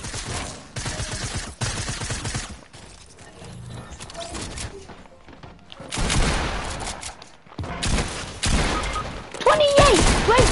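Pistol gunfire in the video game Fortnite: bursts of rapid, loud shots in clusters, with quieter gaps between them, the clatter of in-game action around them and a player talking over parts of it.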